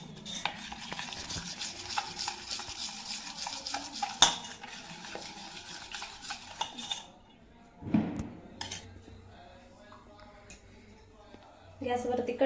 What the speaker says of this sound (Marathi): असं एकाच बाजूने असं व्यवस्थित मिक्स करून घ्यायचं।